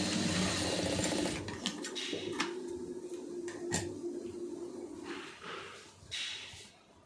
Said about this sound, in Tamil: கரெக்டாக மிஷினில் வச்சு இது ரெண்டையும் சேர்த்து ஜாயின் பண்ணிடுங்க